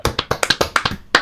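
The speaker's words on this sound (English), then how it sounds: "I think that worried. deserves a round of applause." A short burst of clapping from a small group during a podcast recording, quick close claps in a loose rhythm, fairly loud and brief, without speech.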